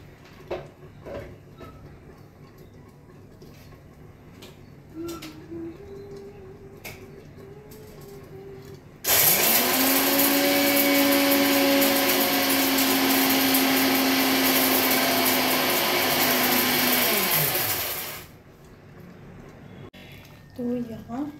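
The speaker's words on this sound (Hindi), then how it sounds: "ये हरी इलायची पीस लेती हूँ" A kitchen grinder pulverizes green cardamom in one loud, steady whirring burst of about nine seconds that spins up abruptly and winds down at the end, with quiet voice and kitchen sounds before and after.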